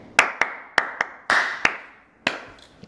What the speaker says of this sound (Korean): 제 수업에 막 이렇게 앞에 이렇게 박수치는 장면들이 나와요